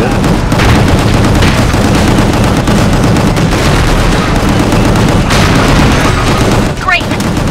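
Frenetic gunfire from the video game Gungrave G.O.R.E, a loud, dense barrage of shots and booms running nearly without pause, with a brief dip near the end.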